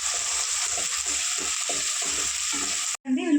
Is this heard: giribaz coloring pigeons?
no